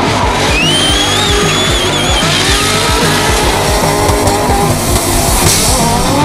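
A drift car's tires squeal loudly through a run at a French drift championship hill round in Calmont, the engine roaring and bouncing off the limiter in pulses under a continuous high-pitched screech, all close and loud.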